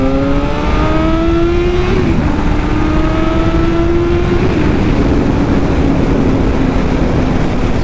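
A Kawasaki ZX7R sport motorcycle pulls hard in second gear from 6,000 RPM, its loud, close engine rising steadily in pitch, with a brief dip at a shift before climbing on, with no talk.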